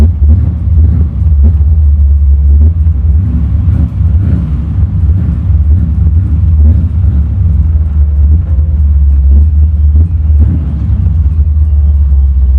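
A 1932 Ford hot rod engine rumbles loud and deep throughout, a heavy idling growl with slight surges and no voices.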